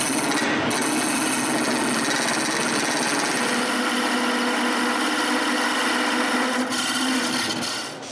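A wood lathe turning a tenon on a wooden drawer pull blank, with a continuous loud whirring hum and the scraping rasp of a cutting tool against spinning wood, close and steady throughout, no speech.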